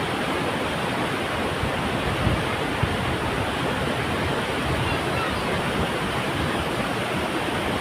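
Water roaring at the Ramanakatte waterfall near Medini, a loud, dense, unbroken rush that stays even and close throughout, with no voices.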